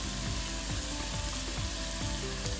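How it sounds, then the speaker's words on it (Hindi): Chicken pasta ingredients frying in a pan, a steady close sizzle with regular scraping strokes as they are stirred, no talking. "अच्छे से चलाएंगे, उसके बाद डालेंगे कैप्सिकम,"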